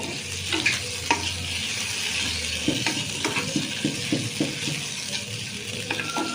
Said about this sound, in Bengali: তো দেখো আমি এদিকে ডিমগুলো ভাজছি